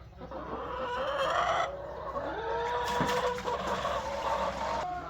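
Chickens cluck and murmur steadily nearby, with a few higher squawks rising over a constant low background hum.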